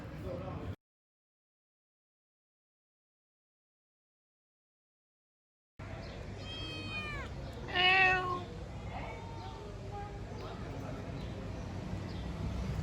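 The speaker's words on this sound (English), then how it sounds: "So I found some cats here." Stray cats in Tirana, Albania, meowing in a few short calls after a stretch of silence, close by and fairly quiet, with a person talking nearby.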